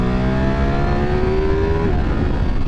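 A 2023 Ducati V4R motorcycle engine revs loud and close with a deep, bassy low-rev tone, holding a steady note and then dropping in pitch near the end of the run.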